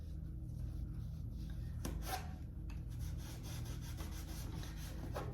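Close, steady rubbing and scratching as cotton canvas tape is pressed and rubbed over a hole in a cloth cow toy, with a few brief sharper scrapes and no speech.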